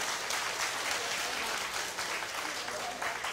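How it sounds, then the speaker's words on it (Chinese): Warm, sustained applause from a lecture audience thanking Principal Lai after his talk on national budget review at a preparatory assembly meeting, a dense, steady wash of many hands clapping throughout. "我们再次以热烈的掌声，谢谢赖校长、赖立伟带来精彩的演讲"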